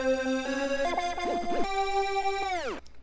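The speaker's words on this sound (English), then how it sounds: "The lead is called Hero, and it sounds like this." Hero, a Serum synth lead preset from the F1LTHY Chrome bank, plays a bright buzzy melody with sliding pitch bends and a falling glide at the end, loud and upfront with no voices.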